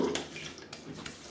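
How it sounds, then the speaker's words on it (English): Water runs softly from a tap as a razor is rinsed during a wet shave, a faint steady splash with light clinks. "I'm just going to rinse and I'll come back."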